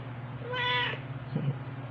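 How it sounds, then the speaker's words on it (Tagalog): A single clear cat meow rises close by over a low steady hum, followed a moment later by a short soft murmur. "Meow, meow, meow, meow."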